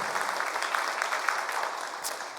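A church congregation claps during a Sunday worship service to welcome two new members. The applause is a continuous, moderately loud patter of many hands with a few sharper claps standing out, and no talking.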